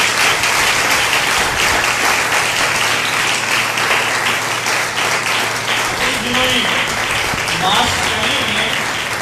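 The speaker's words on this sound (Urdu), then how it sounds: "آئیے یسوع ناصری کے لیے 2000 تالیاں دیں گے" Church congregation at a sermon giving sustained, dense applause and clapping that fills the whole stretch, with voices mixed in beneath the noise.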